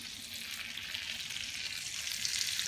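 Fillet steak sizzles in butter in a hot pan, a close, continuous hiss that swells slightly toward the end, with no voices over it.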